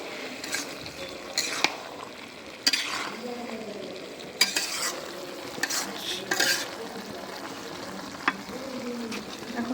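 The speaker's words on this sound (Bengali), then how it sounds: "এখন দিয়ে দিলাম টমেটো।" Tomatoes hit a hot frying pan for a Manikganj-style fish-roe curry and are stirred, giving steady close sizzling with repeated scraping clinks of a spoon against the pan and occasional sharper knocks.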